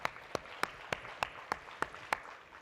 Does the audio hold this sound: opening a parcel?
no